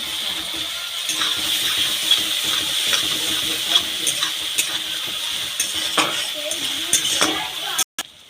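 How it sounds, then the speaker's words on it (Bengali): Garlic and ginger paste fries in oil for a fish curry, a steady close sizzle with repeated scraping of a spoon through the pan, ending in a sharp clatter. "চামচ রসুন বাটা, 1 চামচ আদা বাটা ভালো করে ভেজে নেব।"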